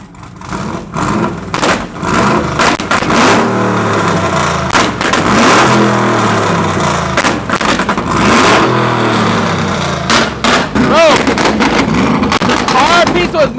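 Supercharged engine in a lifted Chevrolet Tahoe revving hard outdoors, loud and close, with repeated surging revs and sharp bursts over wind noise while people talk nearby.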